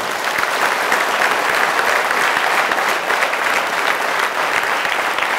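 Students at a 10th class motivation session applaud their organisers with loud, steady, sustained clapping from a large group, filling the hall without pause.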